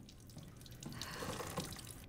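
Water running from a tap in the video game Resident Evil Village, a steady splashing gush with faint drips, moderately quiet and heard alone.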